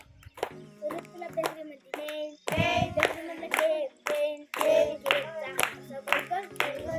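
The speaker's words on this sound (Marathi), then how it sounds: "टाळ्या वाजवा ह्याच्यासाठी सगळ्यांना." Several people clap in bursts at a birthday celebration, with children and adults talking and cheering over and between the applause.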